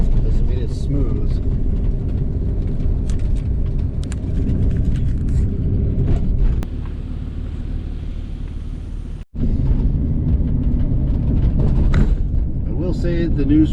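Car rolling along a newly surfaced tarmac rustic road through a national forest, a steady low engine and tyre rumble throughout with a brief dip near the end, people talking over it.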